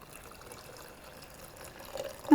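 Hot water poured from a stovetop kettle into a French press, a soft steady trickle and splash that stays quiet and builds slightly louder near the end.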